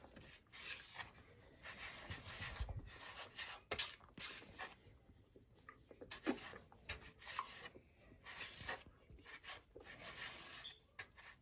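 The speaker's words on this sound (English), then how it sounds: "I'm just going to rub this in with my hands into my flour." Hands rub a tablespoon of fat into flour for Guyanese float bakes, making soft, faint, uneven rubbing and scratching sounds close by with no voice.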